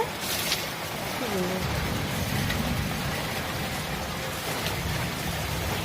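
Steady rain falls on a rainy day, a continuous broadband patter that runs loud and unbroken throughout, with a brief faint voice-like sound partway through.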